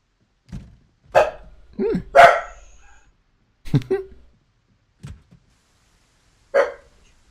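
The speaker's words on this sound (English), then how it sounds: "Hey, can you guys hear my dog, by the way?" A mixed-breed terrier barks in a handful of sharp, separate yips spaced across several seconds, fairly close and clear against a quiet background.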